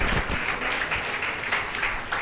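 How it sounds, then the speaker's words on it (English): Students at a college convocation ceremony cheer and clap, a steady wash of applause and crowd noise lasting throughout without pause. "We would request all the sections to cheer loudly for these students."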